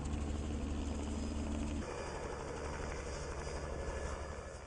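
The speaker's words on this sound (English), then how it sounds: "here come the helicopters!" Helicopters arriving over a tree farm during Christmas tree harvest give a steady, loud rotor and engine roar that fills the whole clip, with no talking.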